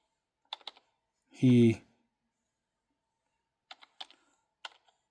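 Bursts of computer keyboard typing, a few quick clicks early on and more scattered keystrokes near the end, close and clear in an otherwise quiet room, with a short loud voice sound between them.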